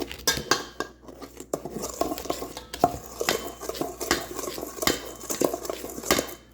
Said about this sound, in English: We're going to start mixing.